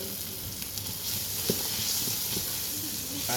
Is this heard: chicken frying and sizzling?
yes